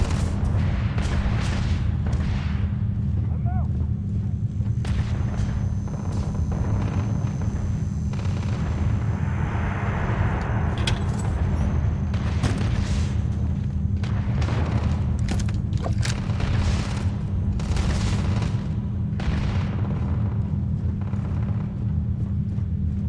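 Sci-fi gunfire and booming blasts in the video game Starfield, dense and continuous over a steady low rumble of combat noise, with no voices.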